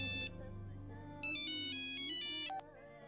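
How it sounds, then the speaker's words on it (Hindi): A phone rings with a bright electronic melody, a short burst followed by a longer, louder run of tones over a low background hum. "साहब, आपका फोन।"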